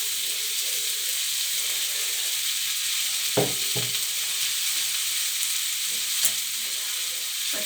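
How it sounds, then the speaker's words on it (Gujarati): Thin, finger-shaped roti rolls fry and get stirred in a pan, giving a continuous bright sizzle with a couple of louder scraping knocks from the stirring partway through. "ધીમા તાપે ગેસ ધીમો રાખીને હલાવવાનું છે"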